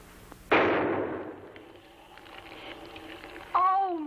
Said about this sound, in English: you might shoot in that wall over there